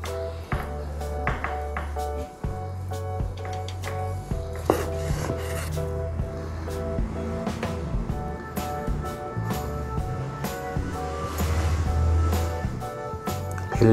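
A knife slicing through a homemade smoked cold cut on a cutting board, giving repeated close, crisp chopping taps and scrapes in an irregular rhythm with no talking.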